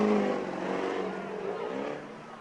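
A GMC diesel truck launches off the start line in an amateur drag race, its engine roaring loud and steady for a couple of seconds before easing slightly as it pulls away, with faint crowd voices underneath.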